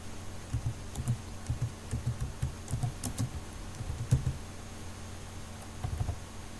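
Computer keyboard typing in quiet bursts of soft key taps, a short run of clicks, a pause, then a few more presses, faint and close with no talk.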